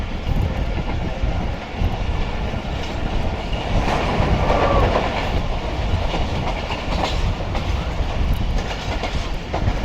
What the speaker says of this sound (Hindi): ये ट्रेन हमारे इस वक्त जुम्माकोट रेलवे स्टेशन को स्किप कर रही है